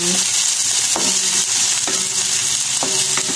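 Soupy Bicolano kusido being stirred in a pan: a steady frying hiss with regular scraping strokes of the spoon about once a second, close and fairly loud, with no voices.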